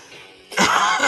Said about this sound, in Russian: еще кашель меня заебал